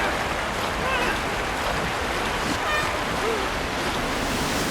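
Constant rushing white water from a kayak slalom course in a London 2012 video game, a steady, full hiss with no breaks across the whole stretch.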